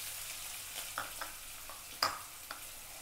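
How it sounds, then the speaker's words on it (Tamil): Onions and green chillies sauté in oil with garam masala for a jackfruit gravy, a quiet, steady frying hiss broken by a few sharp clicks of stirring. "நல்லா வதக்கி விட்டுறலாங்க."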